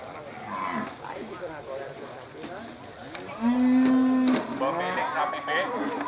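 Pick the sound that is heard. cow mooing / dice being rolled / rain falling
cow mooing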